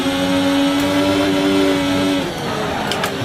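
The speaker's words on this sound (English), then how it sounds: "The car sliding around all over the place, just complaining. It's still pushing us out there. I'm short shifting just to stop the wheel spin." An F1 car's engine revving hard on a wet Canadian Grand Prix track in a racing game, a loud sustained high-pitched whine with the rear wheels spinning, dropping abruptly in pitch as it shifts, then continuing rougher and lower.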